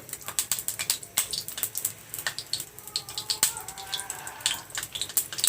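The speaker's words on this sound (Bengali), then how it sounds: "এবার আমি মসুর ডাল দিয়ে দেব।" Soaked red lentils are tipped into a pan of lightly fried bay leaf, cinnamon and cardamom, producing close, crisp wet clicks and rattling patters in quick irregular bursts with a watery sizzle beneath.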